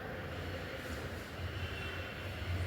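A metro train runs past in Andheri West, a faint, steady rumble of wheels and rail noise heard from a distance with gentle swells, no voices.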